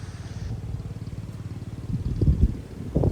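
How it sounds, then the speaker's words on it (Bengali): A power tiller ploughs a field on a wetland plain, its engine putting out a steady, pulsing low chug from some distance, with wind noise and a few louder thumps toward the end. "ওই যে দেখেন টিলার জমি চাষ করতেছে"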